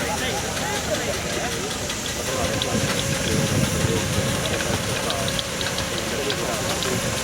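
A 4.5-inch scale four-wheel miniature steam traction engine built in 1980 runs steadily and close by at a steam rally demonstration ring, with its chuffing blended into continuous outdoor crowd noise and chatter.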